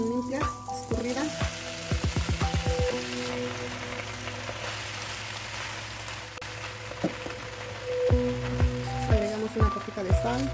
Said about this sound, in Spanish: agregamos las espinacas bien limpias, escurridas